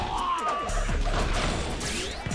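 Rolling rocks crash and tumble in Warriors Orochi 3, a dense run of thuds and smashes layered over battle noise and music, loud and continuous throughout.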